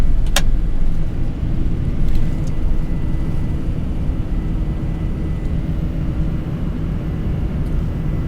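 A Boeing 747 climbs out after a night takeoff from Frankfurt with its gear retracting, a loud steady cockpit rumble of engines and airflow broken by a brief sharp clunk near the start.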